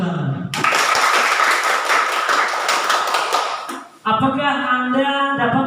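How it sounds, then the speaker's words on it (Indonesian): Students in a junior high school classroom burst into brisk clapping for about three seconds, and then a voice speaks. "Tepuk tangan."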